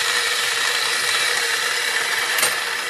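A worn flap wheel on a power grinder grinding a steel drawbar for a Ford 8N tractor, a loud, continuous abrasive hiss and whine with no pauses.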